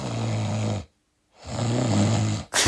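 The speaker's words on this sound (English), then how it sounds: "you sound really funny when you snore" A cartoon character from an animated Sprunki video snores in two loud, rasping drawn-out breaths close up, separated by a brief silence.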